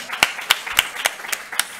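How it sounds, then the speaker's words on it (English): Hands clap at a steady, evenly spaced pace for a panel at a conference on preventing mother-to-child HIV transmission, about six crisp claps in under two seconds, fairly close and without talk. "Let's clap hands for them."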